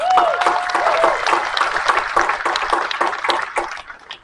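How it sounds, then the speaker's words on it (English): Crowd gathered outdoors at a farm rally for a sheep convoy gives a round of applause, moderate clapping that thins out and fades over a few seconds, with a faint ringing tone near the start. "Give yourselves a round of applause."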